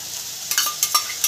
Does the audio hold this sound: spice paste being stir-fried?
yes